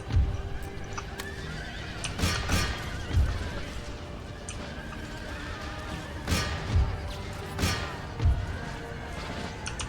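Horses neighing and whinnying during a British cavalry charge in the Empire: Total War battle game, repeated loud whinnies over heavy hoof clatter and battle crashes, with a steady busy din throughout.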